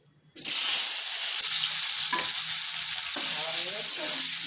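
Potatoes frying in a hot wok (kadai) for a ridge gourd and poppy seed dish make a loud, steady sizzle that starts abruptly and holds, with occasional stirring scrapes and no talking.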